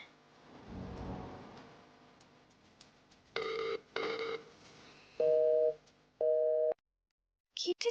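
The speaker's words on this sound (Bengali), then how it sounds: "একটা ফোন করবো পাপড়িকে" Repeated telephone busy tones sound on an unanswered phone call in a Bengali TV serial scene, as steady beeping bursts separated by short gaps, with a rustle and handling noise before them and a brief clipped tone at the end.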